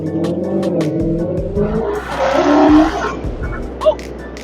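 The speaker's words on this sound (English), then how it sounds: "I got the Corsa Extreme on here, so this thing sounds incredibly good." Dodge Charger 392 Scat Pack with a Corsa Extreme exhaust revs hard and close, a deep rising engine roar that swells and builds with a sharp, loud peak near the end.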